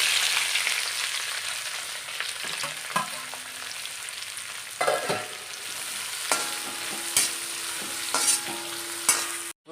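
Sliced onions sizzling in hot oil in a pan while cooking a pork dish, with a steady bright frying hiss and intermittent scraping clinks of a spoon stirring them, close and without talk.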